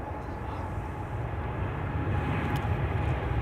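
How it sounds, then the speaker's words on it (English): A KLM Boeing 787-10 Dreamliner bound for Mumbai spools up its engines and accelerates at Amsterdam Schiphol, a low, distant, steady rumble that grows slightly fuller toward the end. "KLM flight 877 to Mumbai is now spooling up, accelerating."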